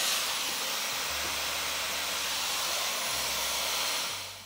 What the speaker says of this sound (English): I am gonna go ahead and dry this side, but I do have to diffuse it first. So I'm gonna put my diffuser on and go ham.